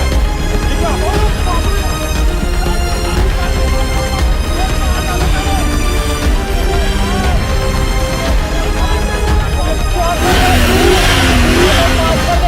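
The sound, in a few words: car engine revving as driver works the clutch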